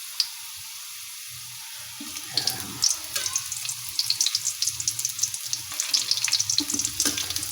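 Chopped onion lands in a hot pan of already browned garlic and settles into a steady sizzle, with stirring scrapes and crackles and a constant hiss running underneath.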